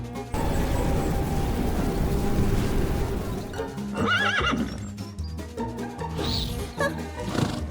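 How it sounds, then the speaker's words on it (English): A unicorn gives a loud neigh and whinny, horse-like and close, alongside clip-clopping hooves and some clattering, all set in a fantasy story scene. "Especially the radiant unicorn created by Selena, a purebred wizard."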